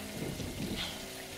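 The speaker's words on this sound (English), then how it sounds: "It's raining fucking hard." Heavy rain pours in the video game Call of Duty: Modern Warfare 2, a steady, dense broadband hiss that stays even throughout, with no voices over it.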